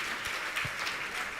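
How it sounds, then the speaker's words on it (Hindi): An assembled congregation at Gunayatan, Shikharji claps in a steady, moderately loud patter. The applause is brief and continuous, with a few sharper claps standing out. "जोरदार ताली बजाकर उनका सम्मान करें।"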